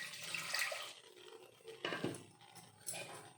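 Rice-washing water is poured into a cabbage and banana flower curry while it cooks in a village kitchen, giving soft, faint splashing and trickling in uneven bursts with no talk.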